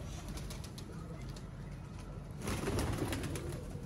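Shy (sharmila) pigeon, a pure-bred female, cooing softly among other pigeons, low murmuring coos over a steady noisy background.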